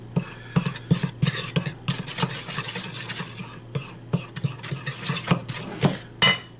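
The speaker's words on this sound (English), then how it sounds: "Just simply mix that up, get it all together" Dry batter mix for fried fish stirred in a bowl, giving irregular scraping and tapping strokes with rhythmic bursts and brief pauses, close and moderately quiet.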